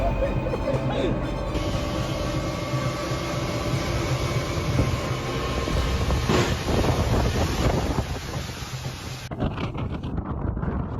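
Cars driving through a flooded road during a typhoon in a Chinese city, a loud steady roar of wind and rushing water with a sustained hiss and heavy low rumble.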